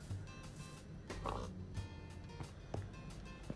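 Faint pig oinks and snorts in Minecraft come in short bursts over a quiet, noisy background.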